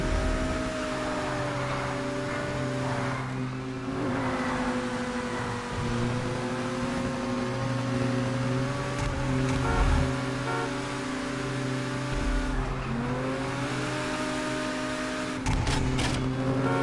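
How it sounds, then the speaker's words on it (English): Car driving in a slow circle in GTA 5, a steady engine hum with a sustained tonal whine that wavers slightly as the speed shifts, with occasional brief clunks and no talk over it. "I'm just driving around in a big circle"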